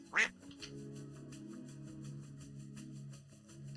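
A single loud duck quack sound effect sounds at the start, followed by a steady low hum and a soft murmur in the background of a live vintage-goods sale stream.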